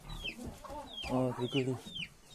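Chickens cluck close by in short bursts, several hens overlapping with soft rhythmic calls.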